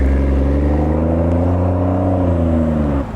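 A 2016 BMW 340i xDrive with a single-turbo inline six and a Dinan exhaust holds a loud, deep, steady rev close by, then drops off abruptly at the end.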